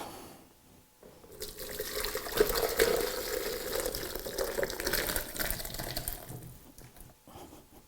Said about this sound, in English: Put the soup in the Vitamix.